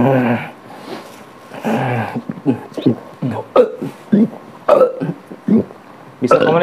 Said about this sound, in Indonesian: hanya keluar sendawa.